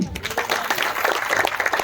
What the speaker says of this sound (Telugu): బిగ్ క్లాప్స్ అండి